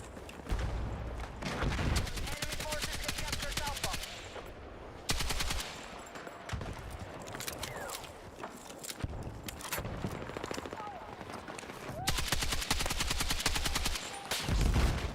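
Rapid automatic gunfire in Battlefield 6, with dense bursts of shots and sustained rattling fire across the whole stretch, loud and close, with brief lulls between volleys.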